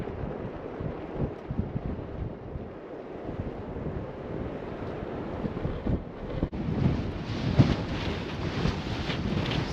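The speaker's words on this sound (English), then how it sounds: "Sorry, it's a little windy." Steady wind buffets the microphone with a low rumbling roar throughout, gusting stronger toward the end, outdoors at Goblin Valley State Park near an old farmhouse.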